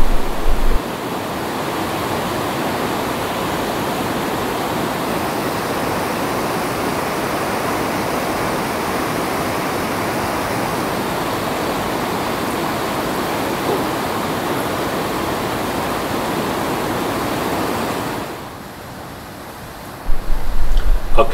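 A river running close to Lemur's Park near Antananarivo, Madagascar, heard as a steady, broad rushing wash of water, fairly near and continuous, fading out briefly near the end.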